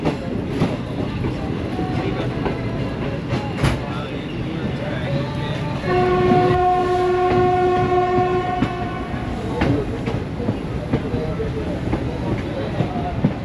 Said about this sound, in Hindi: सामने से आपको हिटाची PH20 के साथ एक ट्रेन जो कि चकमरू शादरा ब्रांच लाइन है उस पर से लाहौर की तरफ आती हुई नज़र आ रही है